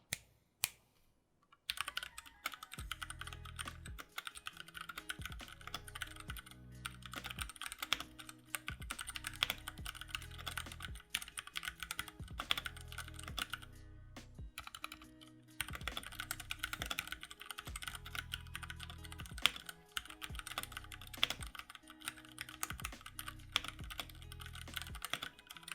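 Typing on a Keychron K6 keyboard with Gateron Red switches, with rapid, soft, close key clacks in uneven bursts and short pauses, alone without any talk.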